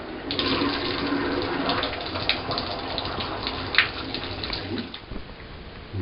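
Tap water runs steadily into a bathtub with the drain stopper closed, a continuous splashing gush that stays loud and close for the whole stretch, with a few brighter splashes and no talking.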